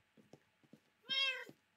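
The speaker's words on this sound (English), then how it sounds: "Kitty, so cute and fluffy." A Minecraft cat gives one clear, drawn-out meow after a few soft clicks and small noises, close and alone.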